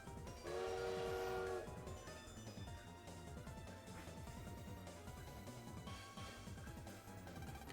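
A train in a Mega Man Star Force Pegasus cutscene rumbles with steady rhythmic clatter, opening with a loud horn blast and rolling on continuously with faint voices.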